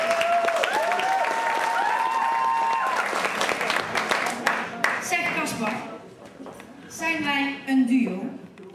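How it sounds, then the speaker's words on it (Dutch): Audience applause at a talent show finale, a moderate burst of clapping mixed with music and voices that fades and gives way to talk. "Dan gaan we een groot applaus voor Bona van Rien."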